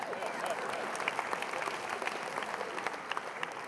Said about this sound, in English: Give those calculators a round of applause.